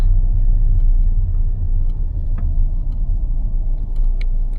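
A car engine idles and rumbles low and steady while parking outside a restaurant in Feldkirch, Austria, with faint ticks over the continuous drone.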